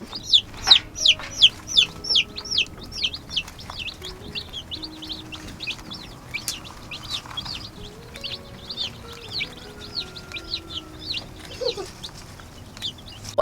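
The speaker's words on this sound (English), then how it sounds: "you basically just want to listen for cheeping" Many baby chicks in a brooder cheep continuously in a rapid, high-pitched chorus, close by and busy, with no talking.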